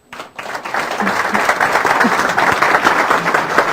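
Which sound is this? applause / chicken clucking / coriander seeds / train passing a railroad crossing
applause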